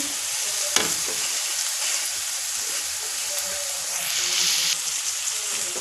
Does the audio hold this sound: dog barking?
no